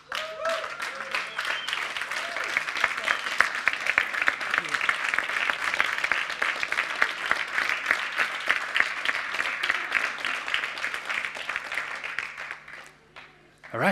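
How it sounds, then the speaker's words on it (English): A crowd at the Slush PLAY 2016 pitching competition claps in sustained applause for over ten seconds, steady and fairly loud, before it fades out at the end. "So please give them a hand of applause for an awesome job."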